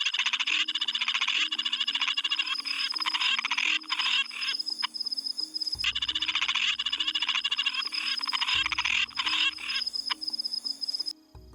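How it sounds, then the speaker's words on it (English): A giant frog croaks in rapid, repeated rattling bursts on a hot night in Australia's Northern Territory, loud and close against a steady chorus of insects. "check out this beast down here, the giant frog from Australia"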